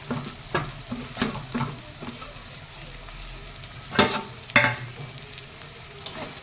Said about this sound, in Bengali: এবার রসুনের পাতাটা দিয়ে ভাজবো